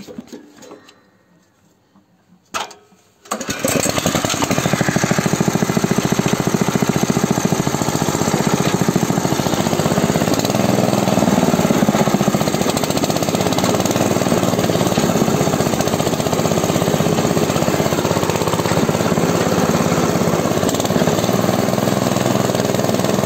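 A mini tractor digs potatoes, its engine starting with a brief sputter and then settling into a loud, steady, rattling drone that runs continuously for the rest of the stretch with no talk.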